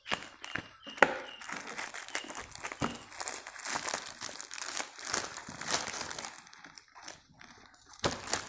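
A shipped package holding books is cut open with scissors and unwrapped, giving a busy run of close crinkling, crunching and tearing plastic and paper, with sharp snips and rustles throughout.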